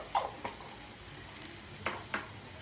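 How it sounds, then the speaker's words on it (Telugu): Ginger garlic paste sizzles as it fries in a pot, a soft steady hiss with a few sharper pops and spits, close and with no voice over it. "మూత ఓపెన్ చేసి మనము దీంట్లో కొంచెం అల్లం ఎల్లిగడ్డ పేస్ట్,"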